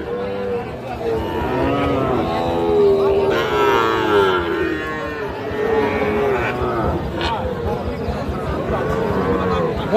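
A Sahiwal bull calf, about four to five months old, moos repeatedly at a busy cattle market at Raniganj haat, loud and near, with other cattle and a steady babble of people talking around it.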